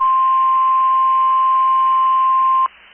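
NOAA Weather Radio alert test tone from Pittsburgh, Pennsylvania: a single unbroken high-pitched radio beep sounding loud and steady for over two seconds, then stopping sharply into faint static.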